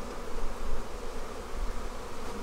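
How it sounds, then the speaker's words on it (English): Masses of honey bees hum loudly at an opened hive during a spring inspection, a close, rich buzz that swells and dips slightly throughout. "Look at all those bees."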